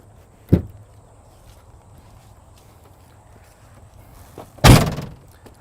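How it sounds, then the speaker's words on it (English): Two hard metallic thunks, one early and a louder one near the end, like compartment doors on an Airstream Touring Coach RV being opened and latched, with quiet between them. "Both of these doors swing open."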